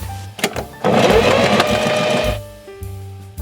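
A sewing machine runs steadily for about a second and a half, gathering the bottom of a fabric skirt with elastic, framed by brief mechanical clicks and pauses at the start and end.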